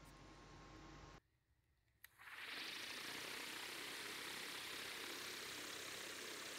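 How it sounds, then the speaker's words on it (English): A homemade windmill built from a bicycle wheel spins up after a short quiet gap, its whooshing, rushing noise rising quickly to a loud steady roar, close by with no speech. "Ветряк раскручивается."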